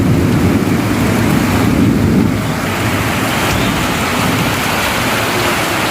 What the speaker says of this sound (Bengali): কতদিন বাদে মনে হচ্ছে বৃষ্টি হচ্ছে